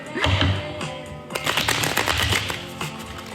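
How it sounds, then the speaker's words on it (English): Tarot cards being shuffled by hand in a short burst of quick riffling and soft slapping, close and fairly loud, with no talking over it. "I'm getting better at shuffling."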